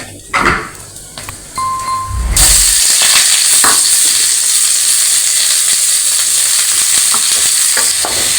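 A few clinks and thumps, then a loud, steady sizzle of about seven chilies frying in hot oil that continues throughout, with occasional stirring knocks.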